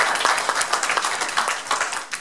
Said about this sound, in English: we have to clap for them